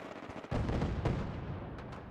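Gunfire from the video game Fallout 4 as a Deathclaw fights a Sentry Bot: heavy, booming shots and bursts roll out over two seconds, loud and dense, with no talking.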